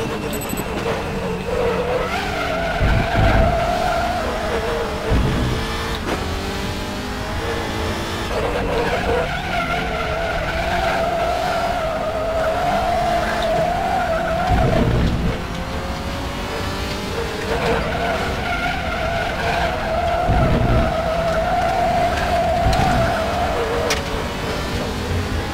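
Tyres skid under hard braking in the RaceRoom racing game, a WTCR touring car at the Hungaroring, over a steady loud engine drone that rises and falls through the lap with gear shifts.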